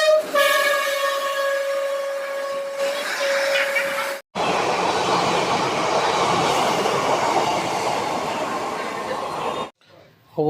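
A Howrah-line local train runs along the track near Serampore station, a loud steady rumble and rattle of carriages with a high whine at first, broken by a brief gap and fading near the end.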